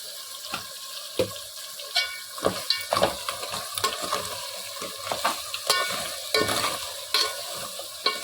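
Crab curry masala fries in a pan with a continuous close sizzle. Repeated scraping stirs of a spoon against the pan break through it at irregular intervals, and no one talks.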